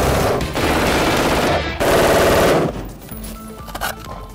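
A 5.56 assault rifle fires loud, close automatic bursts, two rapid rattling strings with a brief gap between them, then fading echoes and mechanical clatter.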